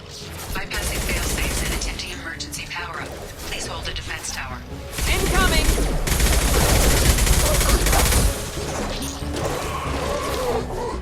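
Gunfire in the video game Mass Effect: bursts of rapid shots and crashing impacts mixed with combat sound effects, loud and near, with in-game character voices talking over the fighting.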